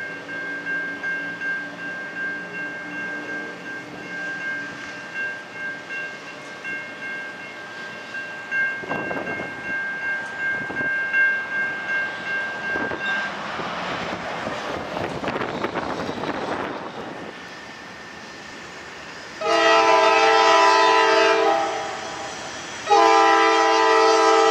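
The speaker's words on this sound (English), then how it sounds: "Train 125 southbound through Jackson," A heavy-tonnage southbound freight train rumbles past through Jackson, Georgia with a steady roar of cars, then its loud horn blares in two long blasts near the end.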